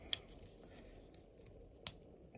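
Victorinox Huntsman pocket knife scissors being opened, with two sharp metallic clicks about two seconds apart and a faint tick between them, alone over a quiet background.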